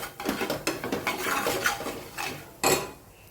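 A spoon scrapes and taps against a metal bowl while bread pakoda filling is mixed with salt, turmeric and amchur powder, with a quick run of close clinks and one sharper knock near the end.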